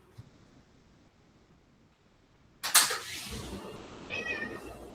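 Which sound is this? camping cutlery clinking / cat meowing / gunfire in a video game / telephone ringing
cat meowing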